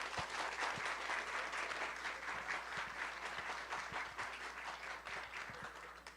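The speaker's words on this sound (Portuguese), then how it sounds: "Palmas para ela!" Steady applause from an audience welcoming an economics speaker at an industry event at UFRJ, with dense clapping holding at an even level for several seconds and no talk over it.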